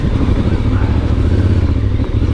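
Voge DS625X adventure motorcycle riding a green lane in Devon, with a steady, rough engine rumble and road noise throughout, loud and close.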